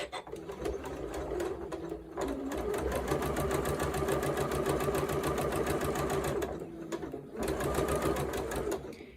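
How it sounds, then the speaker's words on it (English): A sewing machine with a quarter-inch foot stitches fabric for an orange peel quilt block, its steady rapid whir broken by two brief pauses before resuming, close and clear. "once my fabric's so lined up and it's everything lining up with my 1/4 inch foot, I go ahead and start sewing"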